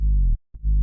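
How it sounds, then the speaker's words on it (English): A deep, buzzy distorted saw-wave synth bass note with its high frequencies cut, giving a muffled tone, broken by a brief gap before the low note returns and sustains. "It's just a saw wave with distortion and then all the high frequencies taken out"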